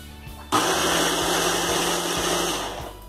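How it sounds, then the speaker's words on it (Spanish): A kitchen blender processing grated coconut with boiling water for a Thai curry starts abruptly and runs as a loud, steady, whirring roar, alone and close up. "pongo el coco rallado en el mixer"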